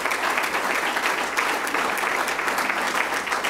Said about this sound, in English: We'll clap for those people at that sort of center table there.